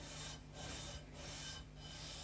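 Rhythmic rasping strokes of sandpaper on wood, three slow back-and-forth passes, quiet and close with no talking.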